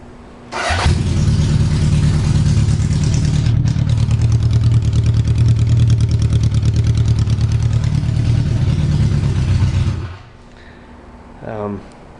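A 1978 Honda CB750K inline-four carbureted motorcycle starts up and runs at a steady, loud idle for about nine seconds, then cuts off, followed by a brief faint voice.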